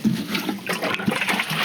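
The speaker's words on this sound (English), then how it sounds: "So I'm just gonna give that a good water." Water poured onto a newly planted Japanese maple (Acer palmatum) in a garden bed, a steady close splashing and trickling wash lasting under two seconds with no talk.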